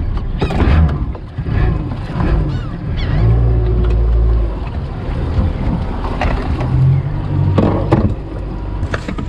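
A 17-foot shrimping boat driven by a 90 hp Yamaha outboard in need of a tune-up runs steadily, its low engine drone mixed with wind buffeting the microphone and splashing water.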